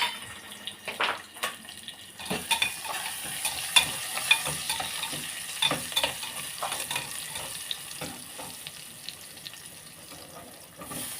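Small onions (shallots) sizzling in a pan for dal rasam, with steady frying hiss and intermittent scraping stirs, close by and fairly quiet.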